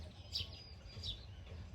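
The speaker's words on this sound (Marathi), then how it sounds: "इकडं फक्त चिमण्यांचा आवाज येतो चू चू चू चू" Sparrows chirp quietly outdoors, giving two or three brief high chirps against a soft background hum, with no talk.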